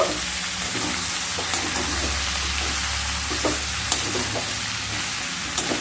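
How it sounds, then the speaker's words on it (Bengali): Pumpkin greens and prawns frying in a pan give a steady broadband sizzle, broken by a few sharp scrapes and clicks as they are stirred, close and loud with no voices. "এই সময় ভেজে রাখা কুমড়োর শাক আর চিংড়ি মাছগুলোকে দিয়ে দেব এবার খুব ভালোভাবে মিশিয়ে নেব"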